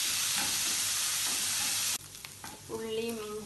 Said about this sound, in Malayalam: ഒരു ചെറിയ കഷ്ണം ഇഞ്ചി ചെറുതായി അരിഞ്ഞത്, രണ്ട് പച്ചമുളക് ചെറുതായി അരിഞ്ഞത്, കുറച്ച് കറിവേപ്പില, എല്ലാം ചേർത്ത് കുറച്ച് സമയം വഴിക്കാം